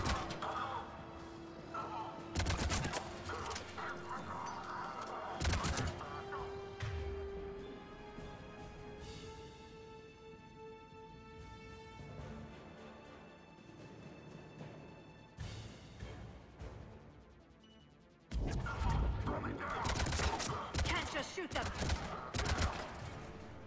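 Gunfire in a Mass Effect 3 firefight: loud bursts of rapid shots and heavy impacts separated by stretches of droning, tonal music and ambience, with a final sustained barrage, while voices speak at times.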